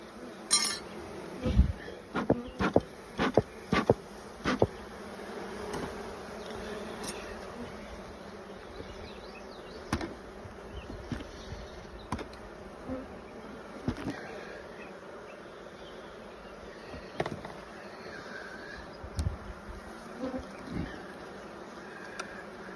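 Honeybees buzz in a continuous close drone around an open beehive during a May hive inspection while they build comb, with scattered sharp clicks and knocks from handling the hive.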